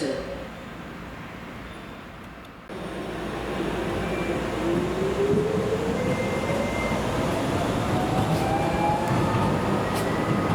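A DLR train runs at Custom House station, a steady rumbling drone that grows louder and holds, with a rising whine as it moves along the platform.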